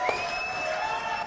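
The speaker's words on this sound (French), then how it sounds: "Applaudissements pour Corinne" Clapping and cheering from a crowd, a dense wash of applause with a whistle over it, steady throughout.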